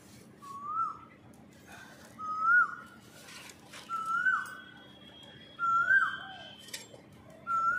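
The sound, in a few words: Asian koel calling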